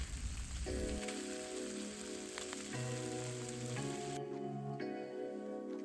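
Pork and shrimp sizzle in a tablespoon or two of oil in a hot pan while chow hor fun noodles are made. A loud, crackling hiss runs throughout, and a sustained tonal hum sits beneath it. There is no talking.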